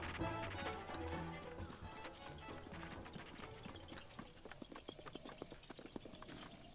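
Horse hooves gallop in Zelda: Breath of the Wild, a rapid rhythmic clip-clop of many beats that is loud at first and gradually thins, accompanied by faint game music.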